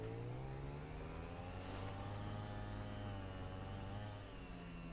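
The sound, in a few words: motorcycle engine doing a loop in a video game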